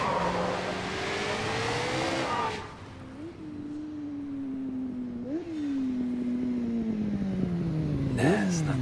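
Motorbike engine in Sleeping Dogs, a loud revving rise that drops off, then a steady humming engine note with brief pitch jumps as the rider throttles and shifts, close and continuous.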